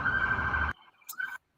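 A siren sound effect blares as a loud, steady electronic wail, then cuts off abruptly, followed by a brief, fainter fragment of the tone before silence.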